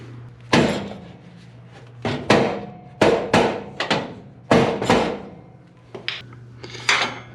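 A hammer pounds the outer wheelhouse sheet metal of a 1965 Mustang restomod into place, about a dozen loud, ringing metallic blows in uneven clusters, close and clear with no talking.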